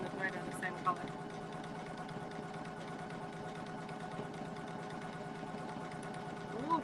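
Poolin EOC06 single needle embroidery machine stitching at speed, a steady rapid mechanical chatter with a continuous whirring hum, running evenly and close for several seconds.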